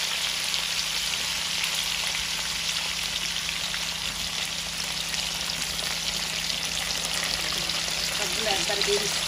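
Potato pieces fry in hot oil with a dense, continuous crackling sizzle like heavy rain, loud and close, holding steady throughout without any clear speech.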